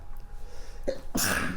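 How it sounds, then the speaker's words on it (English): A single loud, close sneeze bursts out after a short inhaled catch, heard alone in a quiet indoor room during a podcast-style conversation. "Gesundheit."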